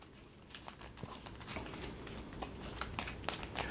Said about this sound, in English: I'm going to go ahead and shuffle a little bit for you